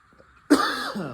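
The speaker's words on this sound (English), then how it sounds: "I gotta cough up all the dust and crap" One harsh, raspy cough up close, abrupt and loud, fading into a rough throaty rattle.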